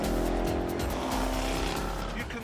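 Jaguar XE SV Project 8 on Michelin Cup tyres cornering at high speed, a loud sustained engine roar heard from inside with tyre noise and a faint voice underneath.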